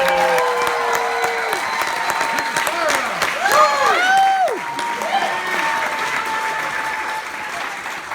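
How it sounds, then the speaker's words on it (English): Wedding guests applauding in a sustained round of clapping with some cheers and whoops, filling the room steadily for several seconds at moderate loudness. "Give yourselves a round of applause."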